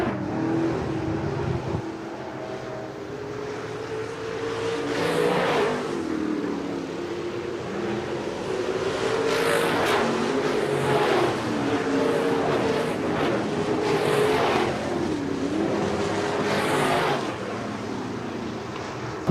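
Sportmod and modified race cars roar around the Shelby County Speedway oval, engines droning in overlapping waves that rise and fall as cars pass at a distance, under a continuous race-day wash.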